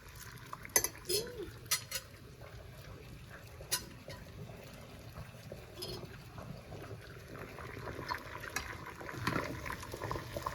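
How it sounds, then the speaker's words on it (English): A pot of water heats toward a boil for eggs in a home ramen kitchen, bubbling and hissing softly with scattered clinks of utensils and cookware, quiet and close. "Once the water starts getting to a boil, you can go ahead and put the eggs in there."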